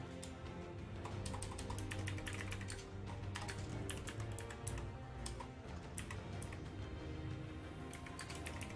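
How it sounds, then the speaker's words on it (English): Rapid, steady typing on a computer keyboard, a continuous patter of light clicks running throughout at a moderate, fairly quiet level with no talk over it. "Let's type it."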